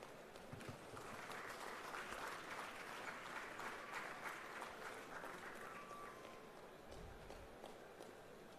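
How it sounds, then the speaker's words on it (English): A crowd applauds steadily at a seminar on building evacuation, a dense patter of many hands clapping that holds for several seconds at a moderate distance. "show some appreciation with a louder round of applause"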